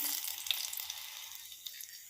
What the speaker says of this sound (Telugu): తాలింపు పెట్టేశాను ఎండుమిర్చి